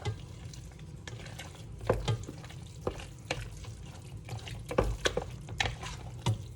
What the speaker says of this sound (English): And then we mix.